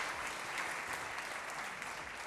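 Audience applause at a regional Miss World beauty pageant final in Lombardy and Piedmont, a brief, steady burst of many hands clapping together with no voices over it.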